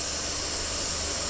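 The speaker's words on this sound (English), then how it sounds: "we're going to let the air out of the tyres" Air hissing steadily out of the tyres of a rundown horsebox trailer, a continuous close broadband hiss that holds at an even level throughout.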